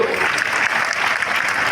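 Dense, steady applause from an audience at an Odia Christian gathering with devotional songs, many hands clapping together at an even level throughout.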